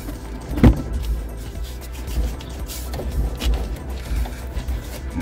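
Clonking knock from the front suspension of a London black cab with the wheel off, a few hollow thuds and rubbing creaks close up, no talk.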